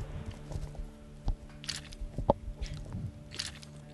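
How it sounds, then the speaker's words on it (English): Chewing a Lance cracker close to the microphone, with a few soft crunching bites and squishy mouth sounds scattered over a quiet background, one sharper crunch in the middle. "Matt, Zach, Make a little chewing sound"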